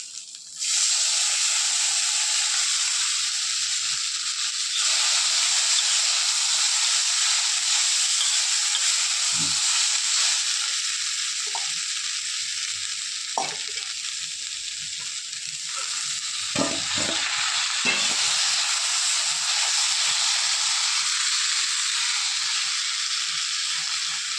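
Poha (flattened rice) sizzles in a pan of hot oil with dried red chillies while upma is made. A steady, fairly quiet hiss of frying runs throughout, with occasional soft stirring scrapes.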